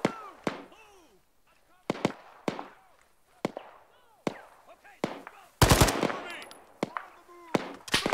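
Machine gun fire in the Arma 3 military game, short sharp bursts and single cracks repeating irregularly at close range, with one dense, louder burst midway.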